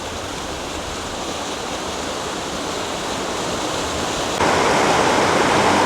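A small waterfall pours steadily over rocks at Seven Tubs Nature Area, Wilkes-Barre, Pennsylvania, rushing and splashing continuously, growing a bit louder and brighter near the end, with no voices.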